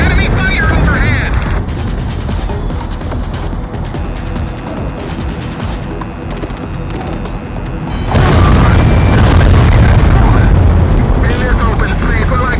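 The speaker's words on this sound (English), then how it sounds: "Enemy fire overhead!" Explosions and enemy fire roar through an air-combat scene in the video game Ace Combat X, a dense, steady rumble that swells louder for the final few seconds.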